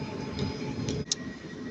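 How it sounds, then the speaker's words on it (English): Northern train idling at a platform in Manchester Piccadilly before departure, a steady low engine hum with a thin whine, a brief hiss and a click near the end, no talk. "this train is getting ready to go now"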